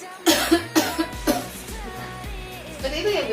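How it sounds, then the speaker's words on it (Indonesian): A patient in a pre-operative nursing roleplay does an effective cough: several forceful, close coughs in the first second and a half, followed by quieter breathy sounds and faint voices in the background. "Langsung batukkan Bu."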